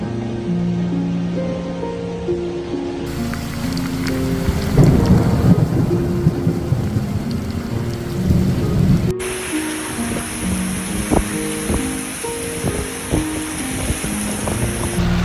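Thunder rumbles through a heavy thunderstorm in Mecca, with steady rain hissing throughout and louder crashes building in the middle before the downpour carries on.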